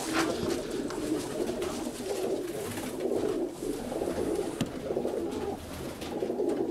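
Several pigeons perched nearly motionless in a bright outdoor spot give soft, repeated cooing calls, close and overlapping in a loose rhythm, with a faint background hum and one brief sharp knock partway through.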